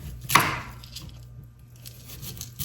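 A single knife cut through a sweet potato lands as a crisp, close thump on a cutting board, followed by a faint scraping tail and quiet room tone.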